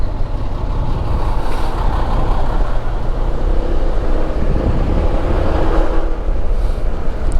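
Heavy road traffic with many trucks, heard from a rider on a scooter as a steady, close, loud rumble of engines mixed with wind noise, with no break throughout.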